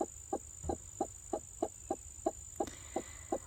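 A broody hen clucks in a steady rhythm, about a dozen low, evenly spaced clucks, close and fairly soft over a quiet background hum.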